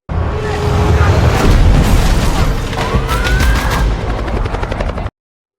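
A loud, continuous helicopter rotor drone pursuing a car, with a police siren rising faintly in the mix and scattered bangs, steady throughout.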